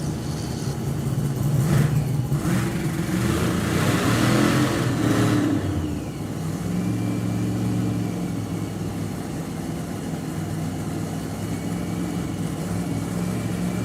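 Engines of a classic Corvette and a 1957 Bel Air at a Top End Nationals drag race, a loud, steady roar with a revving surge in the first six seconds that settles into a lower sustained rumble.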